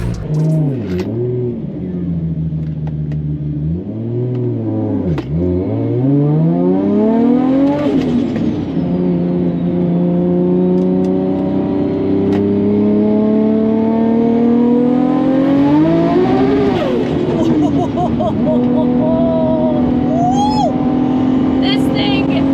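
A powerful car spins all four wheels as it accelerates hard, the engine rising and falling through loud revving sweeps close up, with someone talking over it and music faintly behind.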